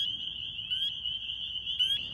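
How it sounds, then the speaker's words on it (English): A chorus frog calls near the microphone outdoors in New Jersey in March, a loud continuous rasping trill holding steady with brief faint chirps layered in twice. "Here we have another fine specimen of chorus frog"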